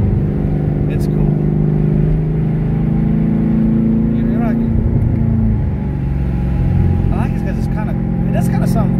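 A twin-turbo 6th-gen Chevrolet Camaro SS with a Huron Speed kit rumbles loudly while accelerating, its turbos blowing off with a couple of brief hissing whooshes over the engine drone as people talk inside the car.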